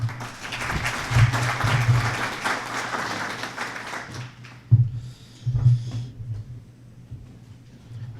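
Audience applause welcoming a speaker at a Bank of Montreal forum event in Guelph, a steady wash of clapping that swells and then tapers off into scattered claps and quiet.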